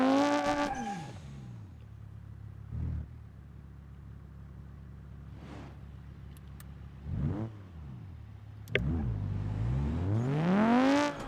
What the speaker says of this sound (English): I think I'm just going to hit the gas and see if it goes faster.